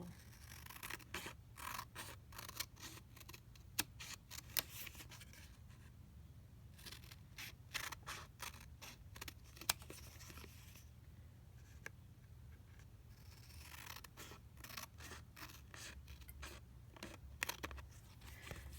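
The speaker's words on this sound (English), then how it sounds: "you cut around the index card like so" Scissors snip steadily around the edge of a paper index card, close and quiet, a long series of rapid crisp cuts broken by short pauses while the card is turned.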